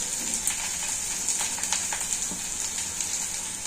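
Asafoetida and curry leaves sizzle in hot oil for a tempering, a steady bright crackle with small pops scattered through it, close and continuous.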